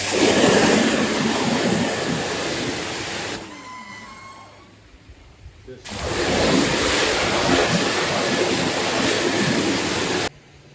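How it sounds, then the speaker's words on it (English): A power washer blasts water across an emptied koi breeding and spawning pond, a loud broadband hiss that cuts out for a couple of seconds with faint trickling in between, then resumes before stopping abruptly. "I just clean with a power washer"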